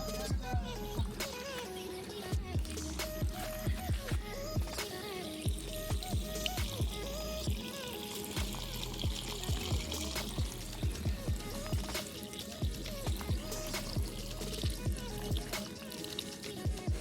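Dirty black water gushes from an opened pipe in a village, a continuous loud splashing flow with rhythmic surging pulses throughout, close up, with faint voices in the background.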